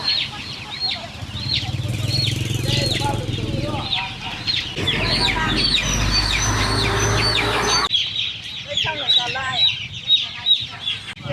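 Chickens for sale at a busy market on a rainy day cluck and cackle continuously at close range, with many birds calling at once over a steady background bustle.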